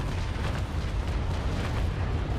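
Ship cannon broadside firing in the naval battle game Naval Action, a loud continuous roar of overlapping booms that fills the whole moment with dense rumbling blasts.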